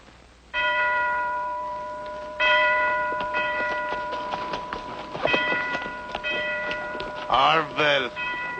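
A church bell at Capistrano rings out for a Harvest Festival, its sustained tolling tones rising and layered through most of the stretch, with a clanging burst near the end and voices faintly present underneath.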